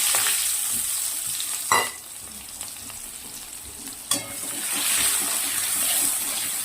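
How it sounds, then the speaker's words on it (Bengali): White cumin and chopped onion frying in fish oil from katla fish, a steady broadband sizzle with a couple of sharp spits as ingredients hit the pan, no voices. "তেলে দিয়ে দেবো সাদা জিরে দেওয়ার পরে এতে দেবো কুচিয়ে রাখা পেঁয়াজ"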